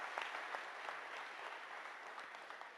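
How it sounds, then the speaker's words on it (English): Faint, distant applause, a steady patter of clapping from a crowd at a community hearing in Hobbema, Alberta, lasting a few seconds. "Give them a nice round of applause"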